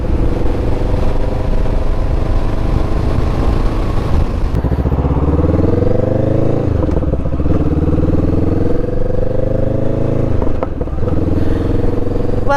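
A motorcycle riding on a road: a loud, close engine drone with wind buffeting, the pitch shifting as the rider changes speed and gears.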